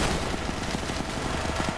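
Rapid bursts of gunfire from a shotgun in the Roblox game Gun Game, several sharp shots in quick succession, loud and close, with no talking.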